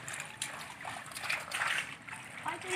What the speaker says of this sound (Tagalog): Ito yung ilog namin.